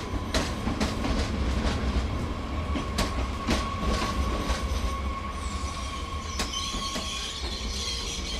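A train runs on rails with a continuous loud rumble, rhythmic clickety-clack wheel beats and occasional high wheel squeal, heard from close by without talk.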